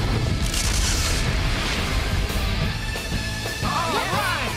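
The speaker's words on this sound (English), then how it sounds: "Turbine laser, fire!" Turbine laser cannon blast in Power Rangers Turbo, a loud sustained booming roar with rumbling low energy that fades slightly toward the end under a brief rising electronic whine.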